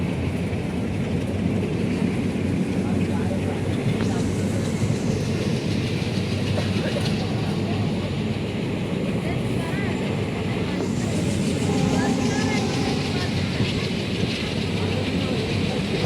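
A Porbandar Express passenger train rolls along the railway track, steady rumbling and clickety-clack of the wagons, close and continuous with occasional squeals.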